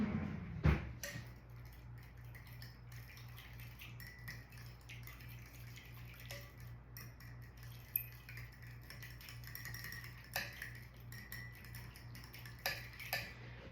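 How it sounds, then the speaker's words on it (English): A spoon clicks and scrapes against a pot as homemade summer supper is stirred, quiet irregular taps over a low steady hum, without voices. "We're going to give it a quick stir."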